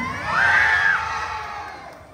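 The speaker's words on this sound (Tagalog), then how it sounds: "Wala po bang hiyawan dyan?" A crowd of spectators at a barangay fiesta beauty pageant cheers and shouts, with one high sustained yell rising out of the noise early on before the roar slowly fades.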